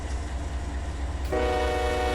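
A coal train rolls in a train simulator game, a steady low engine rumble and rail noise, then a loud sustained horn blast cuts in partway through and continues to the end, with no talk.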